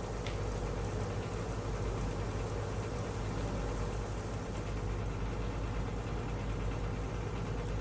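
Marine diesel engines on a Wolfpack boat idle steadily while being tuned cylinder by cylinder, a continuous low rumbling drone with an even knocking pulse that holds constant throughout, with no talking.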